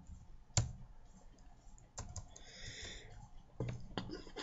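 A name is typed on a computer keyboard in a few short bursts of soft clicks, close and quiet, with faint background noise and no voices.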